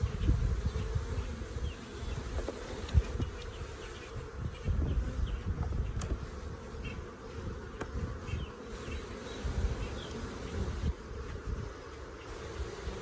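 Honey bees buzz continuously and up close during a beehive inspection, a dense, steady drone with small rises and dips and no speech.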